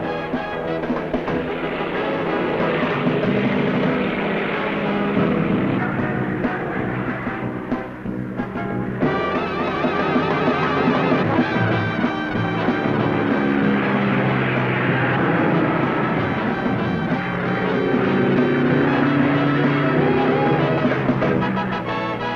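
A propeller plane's engine drones loudly and continuously throughout, with a rough, buzzing hum that swells slightly and dips once partway.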